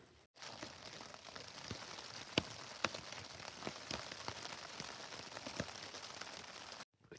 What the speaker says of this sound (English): The rain's about to really come down now, so cooking inside it is for the night.